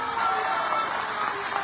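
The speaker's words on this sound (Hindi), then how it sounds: "इसलिए जोरदार तालियों से" Sustained, dense applause from a crowd at a political public meeting in Dadri, steady and loud throughout with no pause.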